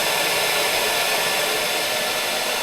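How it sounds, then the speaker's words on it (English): Hairdryer blowing steadily on a KTM 390 Enduro R rear motorcycle tyre to soften the rubber, a constant loud whooshing hum with no break. "I've borrowed her hairdryer, and let's give that 5 minutes."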